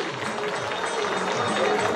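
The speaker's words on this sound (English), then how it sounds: "Big round of applause to the probable rank holders of SAR-MVIT." A hall audience at a college graduation ceremony claps for the probable rank holders, a dense, even applause sustained throughout with a faint voice underneath.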